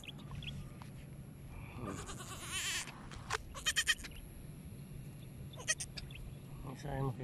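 Goats, including newborn kids, bleat in short bursts amid outdoor field background noise, with people talking nearby.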